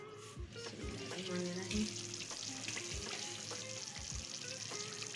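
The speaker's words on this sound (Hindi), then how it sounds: "तमाम स्पाइसेस को अच्छी तरह से मिक्स कर लूंगी और मसाले को थोड़ा ना भून लूंगी अच्छी तरह से" Spice masala frying in a pan for egg korma, a soft sizzle with scattered spoon taps and scrapes, quiet and close.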